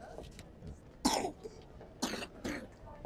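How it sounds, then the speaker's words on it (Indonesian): Several short, sharp coughs and a throat clearing burst out at intervals in a bustling airport check-in area, with murmured background chatter and voices in between. "Batuk."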